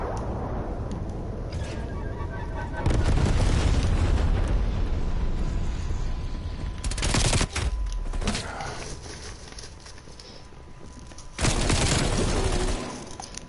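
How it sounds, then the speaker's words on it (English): Napalm strike explosions in the Call of Duty Cold War video game: a loud, rumbling barrage of blasts with heavy booms and crackling fire, surging in several waves with short lulls between them. "Napalm strike inbound."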